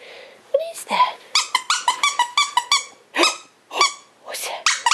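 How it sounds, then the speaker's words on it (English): A Pug and Cocker Spaniel mix puppy at about four and a half weeks yaps in a fast series of high, squeaky barks and yelps, close and fairly loud, with brief pauses between bursts. "I think the other one's barking."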